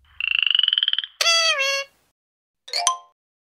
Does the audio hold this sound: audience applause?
no